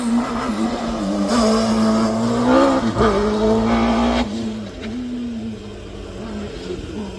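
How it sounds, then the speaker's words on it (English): A Westfield race car with a Pinto engine charges past at a hillclimb, its loud engine note rising and falling as it shifts through gears, then fading as it pulls away. "Gardner McElwain on his way to you in the Pinto engine Westfield"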